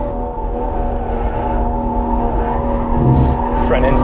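A 2024 BMW M340i pulls hard on a race track, its engine note droning steadily close up from an in-car view, with a brief sharper burst near the end.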